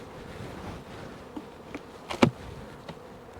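A few honeybees buzz close around a hive box, a soft, steady drone with one sharper buzz passing near, alone with no talk.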